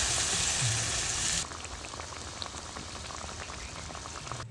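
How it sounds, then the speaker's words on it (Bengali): Fish curry gravy for amudi macher tel jhal bubbling in a pan: a loud hissing burst at first, then a steady close patter of boiling bubbles. "ঝোলটা আমার ফুটে উঠে গেছে"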